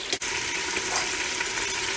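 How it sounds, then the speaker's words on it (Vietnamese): Chicken pieces fry in a pan with a steady, even sizzle and crackle throughout, close and moderately quiet, with no talking. "Còn nếu muốn ra cái vị giống như mình nấu á, thì các bạn phải chiên qua"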